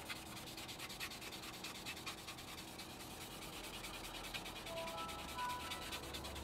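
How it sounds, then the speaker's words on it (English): Plastic 1/48 scale Junkers Ju 88 model kit part being sanded by hand, a soft, steady scratchy rubbing that continues throughout at low level, with no talking. "Okay, so I'll just sand away a nice little bit."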